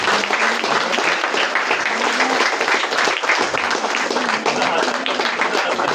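Guests at an engagement ceremony clap together in sustained, dense applause that stays loud and even throughout, with some voices mixed into the crowd.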